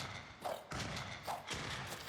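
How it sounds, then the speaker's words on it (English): Thrown gas weapon in a video game bursting into a small explosion that leaves a gas cloud, heard as a few dull, thudding booms in quick succession, moderately loud and without talk. "It makes an explosion and it leaves a little gas cloud for 5 seconds."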